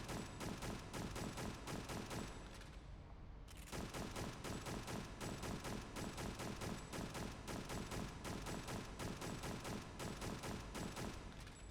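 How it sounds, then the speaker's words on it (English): Video-game gunfire repeats in steady bursts nearly throughout, with a brief lull near the third second before the shooting resumes, loud and continuous with no voices. "let's see if anything even happens if I just sit here and shoot this a bunch"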